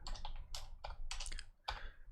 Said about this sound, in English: Told you, I'm terrible at typing.